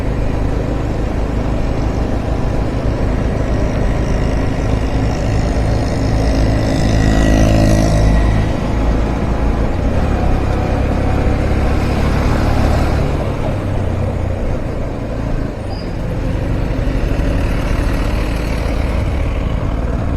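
Steady heavy traffic of cars and trucks on the Khandala ghat road in rain, with engines droning and idling continuously close by and vehicles passing through a jam, no talk.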